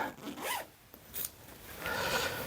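Outer zip on an Are You Comfy beanbag cover being pulled open and shut, giving a few quick rasping zipper strokes, close and clear with no talk over them.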